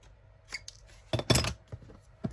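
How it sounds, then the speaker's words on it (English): Small scissors make a couple of quick snips through folded paper during junk journal crafting, short crisp cuts close by with light handling clicks in between. "do a little snippy snip"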